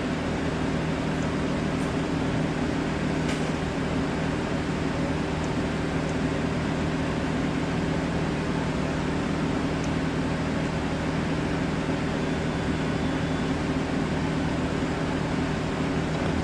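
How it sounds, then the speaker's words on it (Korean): A power lumbar support with an air-type mechanism operates inside a BMW 6 Series seat, giving a steady, uniform mechanical hum and whir that continues unbroken, with a few faint clicks. "럼버 서포트를 작동 한번 해보겠습니다"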